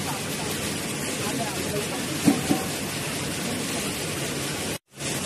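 Steady broadband hiss of rain drumming on a metal roof, continuous and fairly loud, with a couple of brief knocks and a momentary dropout near the end.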